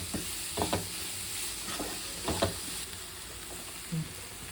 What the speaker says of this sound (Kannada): ಇವಾಗ ನೋಡಿ, ಈರುಳ್ಳಿ ಸ್ವಲ್ಪ ಫ್ರೈ ಆಗಿದೆ.